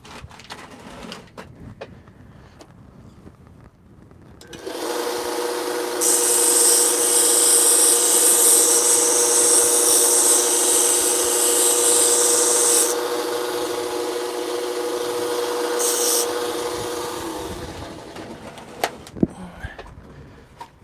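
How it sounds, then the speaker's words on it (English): A Harbor Freight belt sander starts after a few seconds of handling noise, whines steadily at full speed with a harsh grinding rasp as metal is pressed against the belt, then winds down, followed by clicks and clunks. "I'm just going to turn on my my Harbor Freight belt sander real quick"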